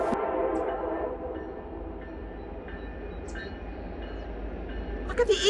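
A train rolls past in Montana, a broad rumbling roar that is loud at first, then settles into steady wheel and carriage noise, with a brief rattle near the end and no talk.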